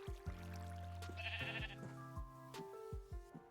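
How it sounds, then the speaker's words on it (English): Bighorn sheep from the Minecraft Twilight Forest mod bleating in a game, several short repeated bleats at close range with pauses between, clear and without talk. "And hey, look, bighorn sheep, already here to greet us."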